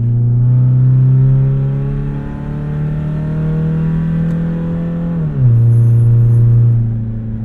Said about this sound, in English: this exhaust is so rowdy though